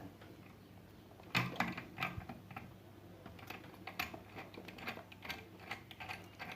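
A nut being tightened onto a bolt with a spring washer, small metallic clicks and ratcheting ticks in an irregular run, faint and close, with no talking.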